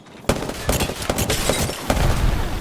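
Rapid gunfire in the video game Apex Legends, a loud close burst of repeated shots with sharp cracks in quick succession over a dense, continuous battle din, with no talk.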